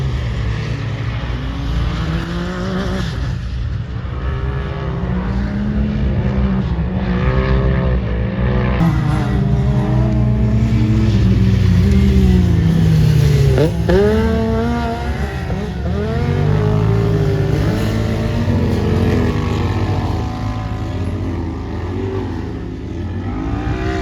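Polaris RZR XP and other UTVs racing past in the Red Bull Sand Scramble at Little Sahara, Utah: loud engines rising and falling as machines pass close in succession, with high-revving whines and no voices over them.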